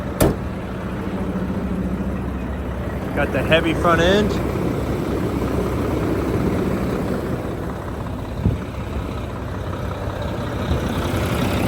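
A 2007 Mack CTP713B dump truck's engine idles with a steady low rumble throughout, someone talking over it and a brief squeaky sound partway through.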